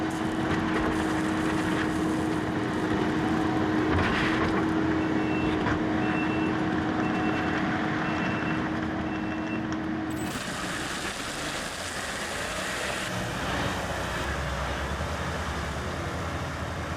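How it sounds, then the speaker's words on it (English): An old Kubota tractor works a driveway of crushed stone, a steady engine drone with a continuous tonal whine and repeating reversing-style beeps, shifting in tone partway through, fairly distant. "There's my son Joey putting the old Kubota to work"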